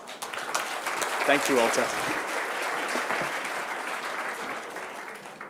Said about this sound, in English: round of applause for my willing victim